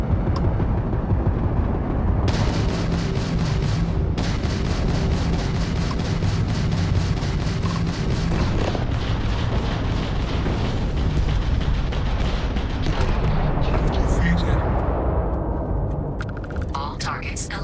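Ship guns firing during space combat in the video game Starfield, with power to the guns maxed: a dense, sustained barrage of loud rapid rattling fire and booming blasts over a steady roar, continuous throughout.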